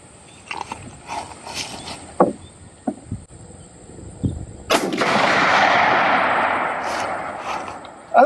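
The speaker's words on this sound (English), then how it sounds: "I'm going to take my second shot. This one's at 100 yards." A hunting rifle fires one sharp, loud shot at an outdoor ranch range, aimed at a target 100 yards away, after a few soft knocks and handling noises, then a long rumbling echo rolls away across open ground.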